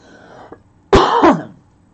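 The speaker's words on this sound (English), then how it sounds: "I'm coughing my brains out" A single harsh, close allergy cough, two quick bursts run together, after a brief quiet throat sound.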